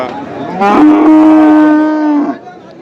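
A bull lets out a single loud, close, drawn-out moo lasting over a second at a cattle market in Bangladesh, then falls quiet.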